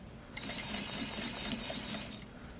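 A sewing machine runs steadily while stitching a curve in fabric, with a continuous whirring motor hum and a fast needle rhythm that holds for most of the stretch at close range.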